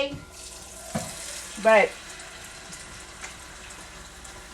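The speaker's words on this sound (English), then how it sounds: "I'm going to put water in it to cover my meat" Tap water runs into a pot over ham hocks for pinto beans, a soft steady wash with a brief louder splash, while a voice speaks faintly.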